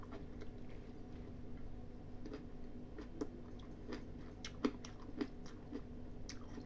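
Someone eats crunchy wood ear mushroom salad, giving faint, close crunches and bites at an irregular pace over a low background hiss, with no talk.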